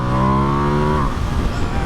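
A Ducati Panigale V2 motorcycle pulls hard in second gear, its engine note climbing steadily in a loud, sustained rising whine before breaking off into rough, broadband wind and road roar.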